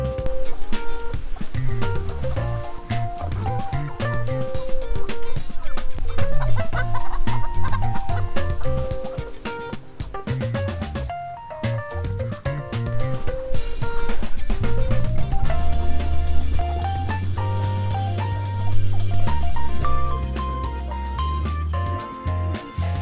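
Free-range chickens cluck continuously in a dense, loud chorus, many birds close by with overlapping clucks and squawks throughout and no talking.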